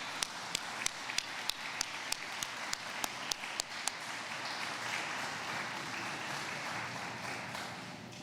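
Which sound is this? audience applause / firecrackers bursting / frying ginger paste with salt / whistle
audience applause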